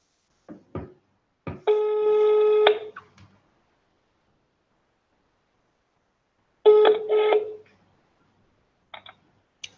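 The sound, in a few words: telephone call ringing while reconnecting a webinar participant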